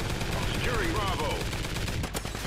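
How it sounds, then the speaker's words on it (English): Rapid automatic gunfire in Call of Duty: Ghosts, a dense continuous burst layered with game effects and faint voices, ending in a sharper crack near the end. "I was shooting at the dude"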